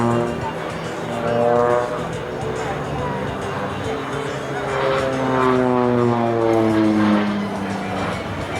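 Esquadrilha da Fumaça propeller aircraft droning through aerobatic passes at an airshow, engine pitch sweeping up and down as the planes climb and dive, fairly distant, with an announcer talking over it.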